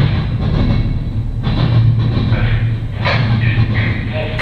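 A Norfolk Southern southbound intermodal freight train passes in Marion, Ohio, with a loud, close, continuous rumble and rhythmic clatter of wheels and cars throughout.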